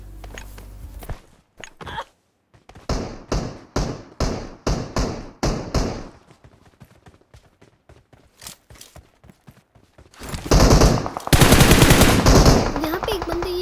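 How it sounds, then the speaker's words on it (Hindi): Gunfire from a bot in PUBG Mobile rings out as a series of evenly spaced, punchy shots, followed by scattered lighter taps and then a loud, dense burst of automatic fire near the end. "यहाँ पे एक बंदा एक बॉट फायर दे रहा होता है"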